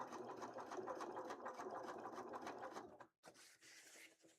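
A serger sewing machine runs in a fast, steady rattling whir for about three seconds, stops abruptly, then gives a short burst more.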